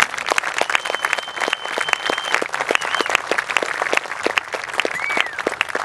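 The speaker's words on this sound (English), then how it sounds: "would you join me in giving everybody a round of applause?" A crowd at a Memorial Day Healing Field ceremony in Murfreesboro, Tennessee, gives a round of applause. Many crisp individual claps rise and fall without a break for several seconds.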